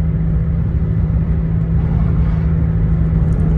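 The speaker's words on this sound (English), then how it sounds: "I'm driving too, by the way." Steady low engine and road rumble inside a moving car, a constant droning hum that holds even throughout, fairly loud and close, with no talking.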